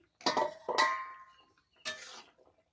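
A metal lid clanks twice against a pot of boiling potatoes as it is lifted, then a third ringing clink follows; close and brief, with quiet between.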